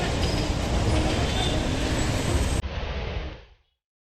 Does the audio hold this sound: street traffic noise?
yes